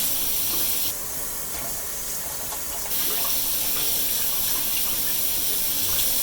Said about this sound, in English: now turn off the water